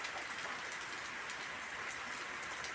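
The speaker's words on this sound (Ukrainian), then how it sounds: "Невеликий, але ж таки мокрий. Мокрий який. Ай, дощик, дощик." Light rain falls on leaves outdoors: a soft, even hiss of many small drops, close and steady throughout, with no talking.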